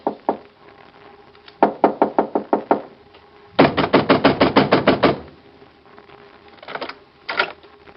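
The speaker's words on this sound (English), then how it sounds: "Why were you pounding on the door?" Heavy fists pound on a door in a 1946 radio drama: a few single knocks, then a fast burst of blows, a longer run of loud pounding and a few scattered final knocks.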